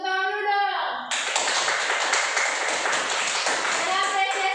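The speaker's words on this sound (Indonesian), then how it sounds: "Kasih tepuk tangan dulu dong." A classroom of children breaks into applause, dense clapping filling the room for several seconds after a short spoken prompt, with a few voices calling out near the end.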